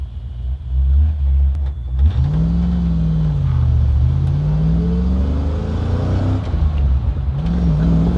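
Fox Body Mustang race car with a 5.0 V8 revving loudly up and down close by, a steady deep rumble with repeated rising and falling sweeps throughout.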